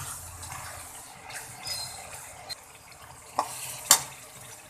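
Spices frying in a pan for dal mash fry, a low steady sizzle with a few soft stirring scrapes and a sharper clink near the end, fairly quiet with no talking.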